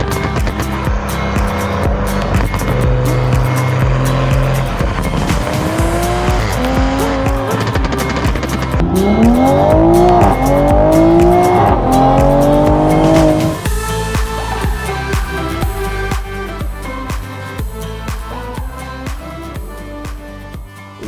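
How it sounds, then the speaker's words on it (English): A 2020 Toyota Supra tuned to about 500 horsepower driving hard, its engine revving loud and close with rising gear sweeps and squealing tires, continuous for about twenty seconds with no talk. "this is my 2020 Toyota Supra."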